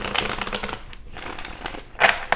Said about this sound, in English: Go ahead and get a shuffle in for you here, Aries.